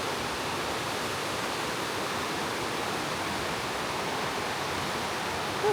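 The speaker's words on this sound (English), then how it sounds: "It's a really pretty river." Rushing river water flows steadily in an outdoor wooded setting, a constant broadband hiss and roar close to the microphone with no break or voices.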